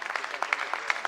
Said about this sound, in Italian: un applauso a Soleandro